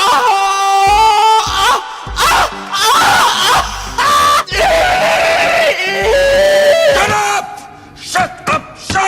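A voice imitates a raccoon with loud, raspy screeches and shrieking bursts in short, choppy bouts separated by brief gaps.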